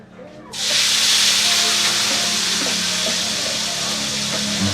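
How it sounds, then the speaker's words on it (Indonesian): Spice paste with a splash of thick coconut milk hits a hot pan for an Indonesian fish dish, bursting into a loud, steady sizzle after a brief quiet start and frying on continuously close to the microphone. "adonan bumbu yang telah dibuat ditumis kembali dan ditambahkan sedikit santan kental"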